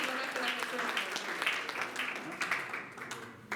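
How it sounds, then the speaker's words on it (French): Congregation at a church service clapping along after a sung testimony, a steady wash of many hands with spoken voices mixed in throughout. "Come on, clap your hands for Jesus"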